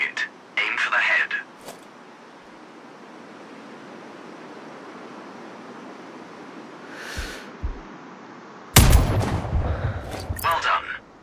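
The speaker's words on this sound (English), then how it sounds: "Now, shoot this target. Aim for the head." A sniper rifle shot in the video game Sniper Ghost Warrior Contracts, a sharp loud blast with a rolling echo near the end, after quiet ambient wind and brief game sounds.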